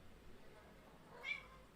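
A pet cat gives a single faint, brief meow near the end, set against a quiet indoor room hush.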